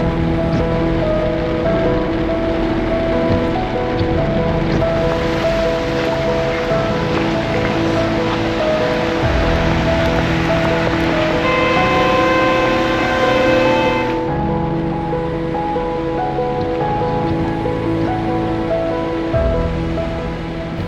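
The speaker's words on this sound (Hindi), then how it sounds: "अभी थोड़ी देर के लिए बारिश शुरू की है" Steady rain falls outdoors during a long walking march, with a dense, loud hiss of rainfall that holds throughout and has no voices.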